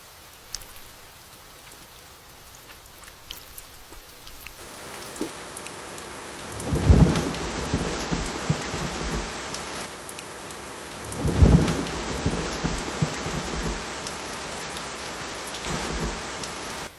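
Steady rain falls throughout, with two deep rolls of thunder rumbling through the downpour a few seconds apart.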